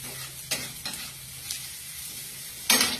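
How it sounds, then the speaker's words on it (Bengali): Onions fry in a pan, a low steady sizzle broken by several sharp scraping bursts as they are stirred, the last one loudest, with no voices. "তো আমার পেঁয়াজটা ভাজা ভাজা হয়ে গেছে।"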